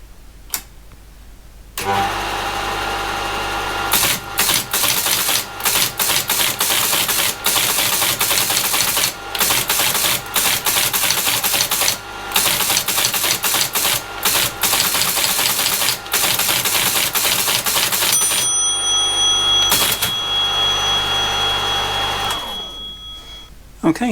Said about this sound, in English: It now appears to be punching, It's also punching very nice and evenly